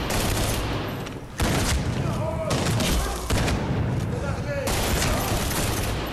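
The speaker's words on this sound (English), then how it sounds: "Look who can use a shotgun." Shotgun blasts in a Medal of Honor Warfighter firefight, loud broad bursts and a dense continuous roar of gunfire with a few distinct heavy shots, while someone talks over the action.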